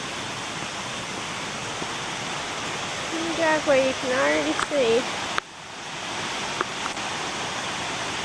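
Floodwater from Hurricane Helene roars past a collapsing dam as a steady broadband rush, with someone talking over it midway.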